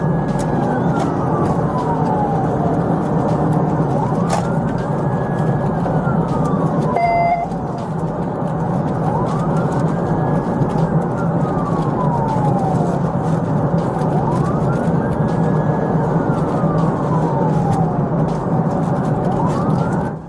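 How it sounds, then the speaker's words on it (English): A police car siren wails in long rising and falling sweeps during a high-speed pursuit, loud and close over a constant engine and road roar, with no talking. "A pursuit began with lights and sirens activated."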